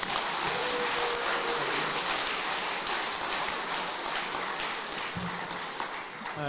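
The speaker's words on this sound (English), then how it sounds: "A round of applause for our finalists" Sustained, dense applause fills a hall at a regional sports awards ceremony for the finalists, a steady wash of many hands clapping that eases slightly near the end.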